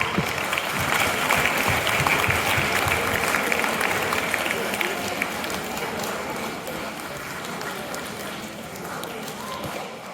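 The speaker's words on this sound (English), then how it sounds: "Please give hand claps." Audience clapping at a school mock assembly, a steady wash of many hands that stays full and even, fading a little toward the close.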